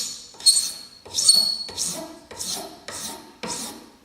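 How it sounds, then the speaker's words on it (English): Hand file worked back and forth across a piece, about six distinct rasping strokes in a steady rhythm, close and fairly loud with a bright scraping edge. "So I always have to go back and file maybe this side down a little bit more."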